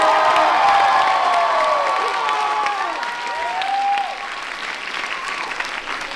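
A theater audience at a Philippine Culture Night show gives loud applause and cheering for a choir, dense clapping with high whoops that slowly tapers off over several seconds.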